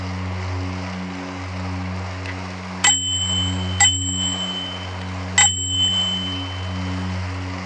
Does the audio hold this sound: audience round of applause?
no